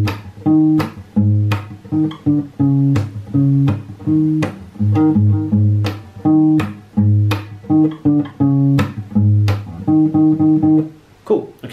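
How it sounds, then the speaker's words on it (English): Acoustic guitar playing the bassy part of a song, low plucked notes and strummed chords in a steady repeating rhythm, near and full, with no talking. "the bass acoustic guitar part is going to sound like this."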